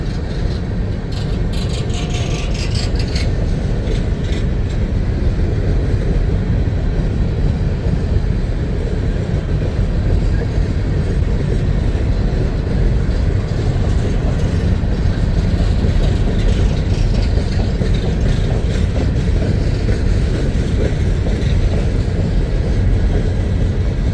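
A CSX 1850 L&N heritage locomotive leads a loaded coke train past at close range. Deep diesel rumble and a continuous roar of rolling railcars fill the whole stretch at steady loudness, with clattering wheel noise.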